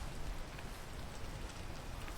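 Steady rain in the video game PEAK, a soft, even hiss of falling drops on surfaces, faint and continuous without talk.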